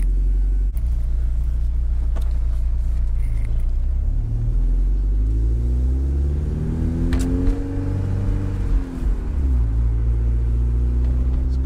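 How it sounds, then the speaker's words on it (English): A loud Porsche 944 Turbo engine with a catless exhaust rumbles deeply, its pitch rising and falling as it revs, with a raw, throaty exhaust tone throughout. "This car sounds freaking amazing."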